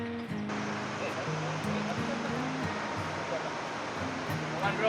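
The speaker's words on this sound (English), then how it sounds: "I can hear the water." Rushing water from a waterfall at a nature retreat near Mudigere fills the scene with a steady broadband roar, while voices and some tonal sounds come through faintly on top.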